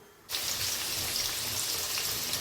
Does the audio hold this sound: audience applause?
no